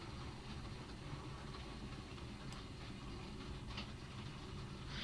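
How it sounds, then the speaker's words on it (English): A model train running round a layout track on a Z21 digital control setup, giving a faint steady rolling hum and rattle with no voices. "I should be watching the train to make sure it goes round okay"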